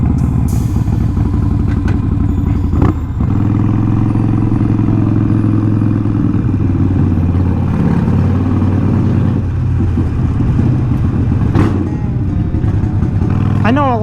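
A Harley-Davidson Sportster 48 bobber motorcycle rumbles steadily with a low engine note, a few sharp clicks and revs during the ride, and someone talks over it.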